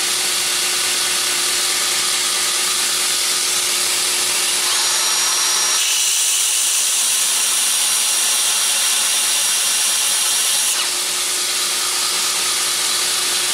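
A folding knife is sanded at 60 grit on a powered sander, a loud, steady, close abrasive hiss. The grinding tone shifts partway through as pressure on the blade changes.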